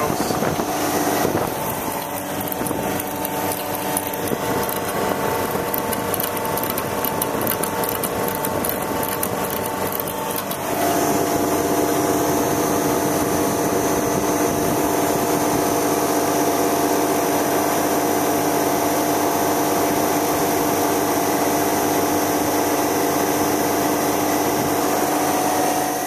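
An HVAC refrigeration unit with a blocked TXV runs steadily while being pumped down at the service valves, giving a loud continuous mechanical hum and whir that shifts slightly in tone partway through, with no talking.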